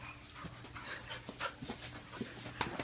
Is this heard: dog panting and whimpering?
yes